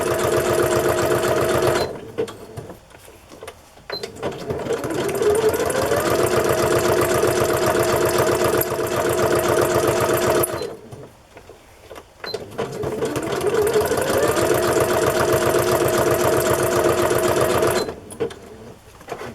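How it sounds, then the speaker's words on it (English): Sewing machine stitching around the edge of a large glued Christmas craft journal: a loud, close, steady mechanical whirr runs in long bursts, broken by two brief pauses where the motor stops before it starts again. "Just for fun, I'm going to sew all the way around."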